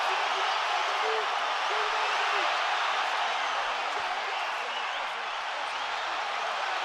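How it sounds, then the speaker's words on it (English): A boxing arena crowd roars steadily through the Canelo Alvarez vs Gennady Golovkin fight, a dense, unbroken wash of cheering with a commentator's voice over it. "But the crowd are going crazy"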